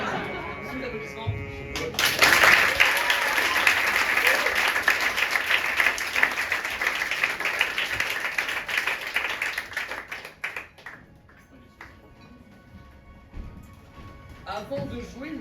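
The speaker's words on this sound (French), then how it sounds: "Sous l'applaudissement." Audience applause breaks out at a live Viking-themed improv show, a dense burst of clapping that swells quickly, holds steady for several seconds, then fades out to quiet with a few stray sounds.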